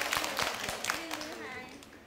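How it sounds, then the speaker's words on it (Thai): Secondary-school students in a Thai language class give themselves a short round of scattered claps, faint and sparse, with a teacher's voice speaking over and after them. "ปรบมือตัวเองหน่อยลูก"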